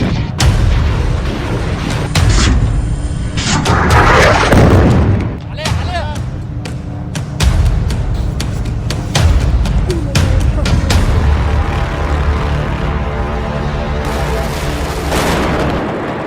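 Heavy bombardment from Israeli strikes, loud booming blasts and rumbling detonations following one another across the stretch, dense and close with a sustained roar between impacts.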